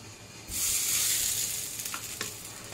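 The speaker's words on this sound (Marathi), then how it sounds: "आणि आता हे तडका आपल्याला याच्यावर घालून घ्यायचा आहे।" Hot tempering (tadka) poured over a bowl of chutney erupts into a loud, bright sizzle that swells quickly, then settles into a steady crackling hiss with a few small pops, close and alone.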